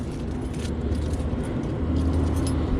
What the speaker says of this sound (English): The engine is pretty healthy.